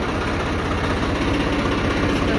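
A tractor engine idles steadily nearby on a Punjabi farm, a continuous low throbbing rumble with even mechanical pulsing throughout and no talk over it.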